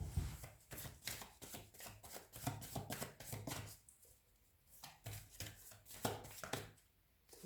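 Tarot cards are shuffled and drawn by hand in a quiet room, giving a steady series of crisp riffling flutters and soft slaps in close, irregular bursts with short pauses between them.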